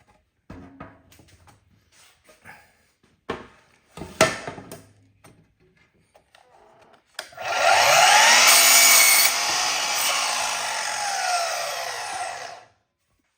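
A power saw cuts through a cedar fence picket, a loud steady whine lasting about five seconds after some scattered bumps and knocks as the wood is positioned.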